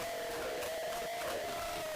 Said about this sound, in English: Well, audience, can we have a big shout out for Zimbabwe under 20 hockey ladies?